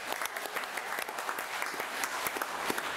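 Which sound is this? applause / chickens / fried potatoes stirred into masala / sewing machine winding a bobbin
applause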